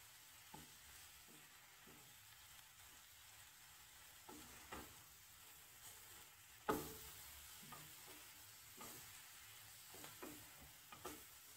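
Grated fresh coconut mixture being roasted in a pan for a Kundapura Brahmin-style masala, quiet soft sizzle with scattered spatula scrapes and taps, one sharper knock midway, no talking.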